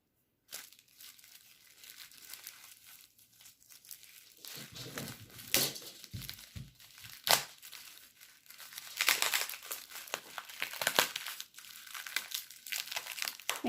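Packaging from a beauty subscription box crinkling and rustling at close range, irregular bursts of plastic and paper crumpling with sharp crackles, no voices.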